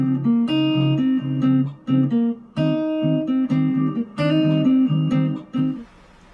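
Guitar picks out the melody of a song as a simple jazz single-note line, clear and close, with steady phrased notes and short pauses between phrases.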